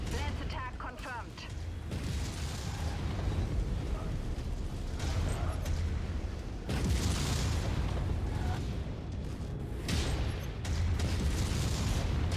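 A mech's reactor blows up in the MechWarrior 5 video game, heavy rumbling booms rolling through dense battle noise, with fresh blasts surging at intervals.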